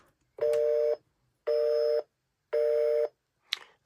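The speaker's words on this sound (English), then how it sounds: "You can make it make a busy signal noise." Busy signal from the toy phone on a 2006 VTech Grow and Go ride-on: three evenly spaced electronic beeps of equal length and pitch, then a short click, clear and close with no talk.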